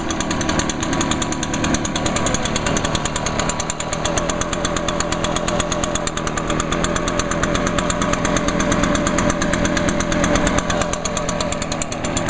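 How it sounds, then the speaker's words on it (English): A new 2015 Echo PB-580T gas backpack leaf blower idling: a steady, loud, close buzzing two-stroke drone with rapid even pulsing, holding constant for about twelve seconds without revving. "put this thing idle for a few seconds here before I start revving it."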